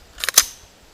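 Quick crisp mechanical clicks from an AR-15 safety selector being rotated from safe to fire, two light snaps followed by a sharper final click, close and clear in a quiet room.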